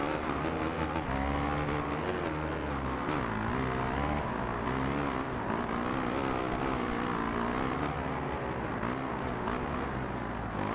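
A loud, continuous motocross bike engine drone in the video game MXGP 2, with shifting pitch, revving up and down steadily throughout.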